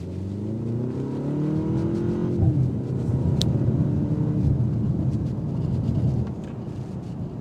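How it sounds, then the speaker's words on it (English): A 2025 BMW M235i drives along a road, its engine rumbling loud and near through a rising then settling exhaust note with a steady wash of road noise; distinct pops are not clearly separated. "The pops come into play,"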